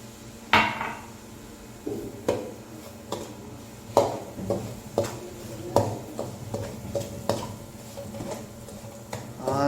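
Semolina stirred in hot oil in a pan for sooji halwa, with a spoon repeatedly clinking and scraping against the metal in an irregular rhythm, up close and loud, with a faint sizzle underneath.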